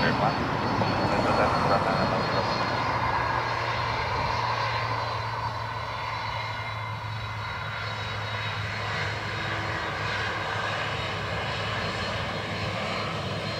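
An Aer Lingus airliner at Dublin Airport gives a steady, loud engine roar with a broad rumbling hum that stays even throughout, and a voice is heard faintly underneath.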